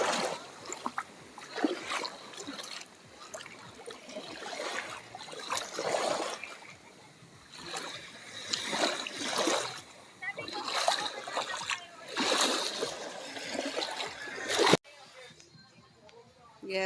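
Sea water splashes and washes in repeated surges at a beach in Calatagan, Batangas, rising and falling every couple of seconds, close by, then cuts to quieter hiss.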